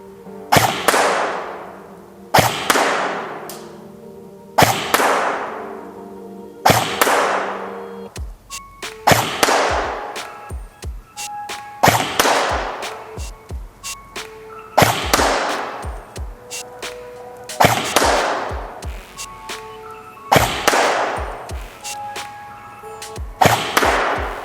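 A PTS ZEV Core Elite 10.5 inch airsoft AEG fires single shots, about nine sharp, close cracks spaced at a steady two- to three-second rhythm, each with a short ringing tail.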